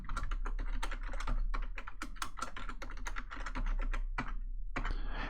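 Rapid, steady keystrokes on a computer keyboard as a password is typed during Active Directory user setup, close and clear, with a brief pause near the end before a final flurry of keys.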